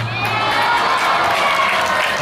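Crowd cheering and shouting with applause mixed in, a dense continuous roar of many voices at a live event, steady and loud across the whole stretch.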